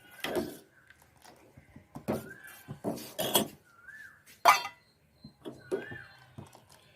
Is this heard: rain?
no